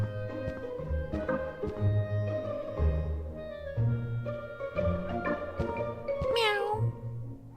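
A cat meows repeatedly in the video game Scott Whiskers: The Search for Mr. Fumbleclaw. The clear, close meows come one after another, with a rising, drawn-out yowl near the end.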